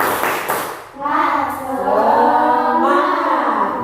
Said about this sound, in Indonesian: Yuk, kita lakukan tepuk semangat.